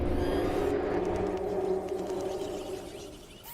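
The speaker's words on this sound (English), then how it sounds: "Relax, don't be scared. That's the sound of the mighty T-Rex." A T-Rex roar in the PUBG Mobile video game, a long deep rumbling bellow with a wavering low tone that slowly fades over several seconds.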